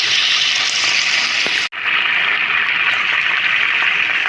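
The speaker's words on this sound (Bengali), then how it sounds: "মাছ ভেজেছি এই তেলটার মধ্যে মশলাটা ভালো করে কষিয়ে দেবো" Spices sizzle loudly in hot leftover oil from fried fish, a dense, steady crackling hiss close by with one brief dropout partway through.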